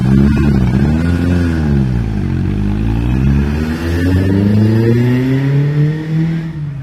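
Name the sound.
antique car accelerating up a hill climb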